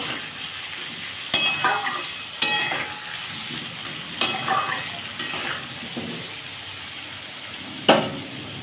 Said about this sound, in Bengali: আমি এটা আলুটা আর একটু ভেজে নেবো ভালো ভাজা হয়নি